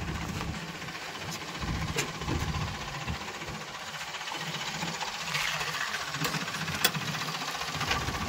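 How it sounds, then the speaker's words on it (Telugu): A Maruti Swift Dzire car engine running at a steady idle, a low continuous rumble with a faint mechanical ticking, no talking. "Engine sir engine చూపెడుతుందా start."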